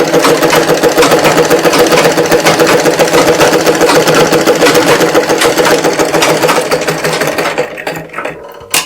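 A sewing machine stitches a blouse sleeve piece, holding it in place with a continuous, loud, fast mechanical whir that runs steadily before trailing off near the end.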